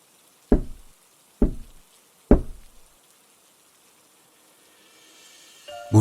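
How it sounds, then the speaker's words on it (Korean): Three loud, evenly spaced knocks on a door ring out alone with short decays, followed by quiet and a faint bump at the end, within a Korean horror story narration. "문을 두드리는 소리에"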